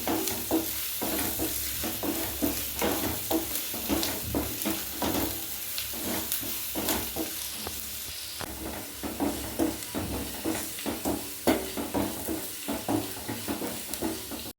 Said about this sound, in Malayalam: നന്നായി മിക്സ് ചെയ്ത് അത് നന്നായിട്ട് മൂപ്പിച്ചെടുക്കാം.